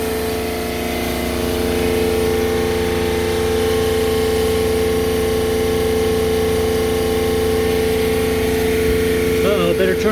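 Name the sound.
high pressure pump of sailboat watermaker running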